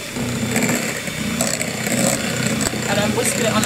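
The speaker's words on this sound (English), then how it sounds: "I'm whisking it on a high speed" An electric mixer whisks Swiss roll sponge mixture at high speed, a loud continuous motor whine with rattling in the bowl, close to the listener.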